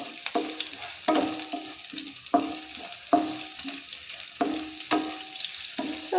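Onions and mustard seeds fry in a pan for a brinjal curry, giving a steady sizzle with regular stirring scrapes about once a second. There is no talking.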